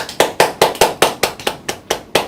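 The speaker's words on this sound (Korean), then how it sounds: "여러분 박수로 환영해 주십시오." An audience at a public history lecture claps to welcome a professor: a steady, evenly spaced run of about a dozen sharp, close claps with no talking.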